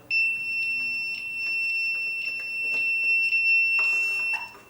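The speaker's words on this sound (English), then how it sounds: "So that beeping is annoying, but it doesn't last long, okay?" NightWatcher 8-channel AHD DVR beeping during setup, a steady high electronic tone sounding continuously through the whole stretch, with faint clicks and a brief burst of rustling noise near the end.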